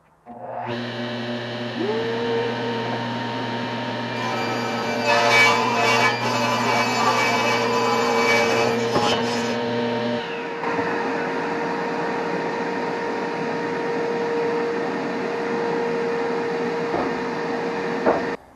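Table saw ripping a cedar board for a toy box, steady motor whine with a loud rising cutting roar through the middle, then continued running hum after the blade clears.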